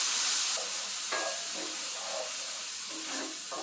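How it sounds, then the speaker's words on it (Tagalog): Chicken and spice paste stir-fry in a hot pan, a steady loud sizzle and hiss with scraping stirs at irregular intervals. "I-stir fry po natin ito hanggang sa lumabas ang kanyang aroma."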